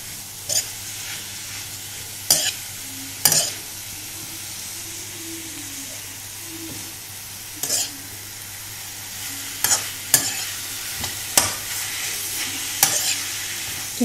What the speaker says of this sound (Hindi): इन सबको मिक्स कर लेते हैं अच्छे से